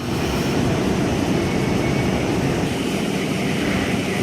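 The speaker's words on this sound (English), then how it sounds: "K67 and friend now departing platform number 1" Sydney K set electric train departing platform 1 at Casula, a steady broad rumble and whir of motors and wheels, loud and sustained as it pulls away.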